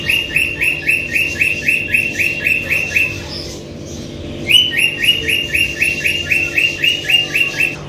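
Two adult male lutino cockatiels sing close by in loud, rapid runs of repeated whistled chirps with an even rhythm, broken by a short pause midway before the song resumes.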